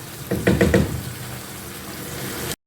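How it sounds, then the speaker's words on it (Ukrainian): Chicken liver with pear fries in a pan while being stirred, a few quick knocking scrapes of the utensil over a soft, steady sizzle. "Ось так ми періодично помішуючи, ще смажемо"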